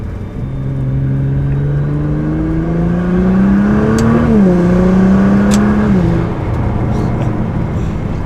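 A Nissan GT-R fitted with a cold air intake revs up steadily from near idle, engine pitch climbing over several seconds with rising induction roar before easing back, loud and close, with a brief dip mid-pull.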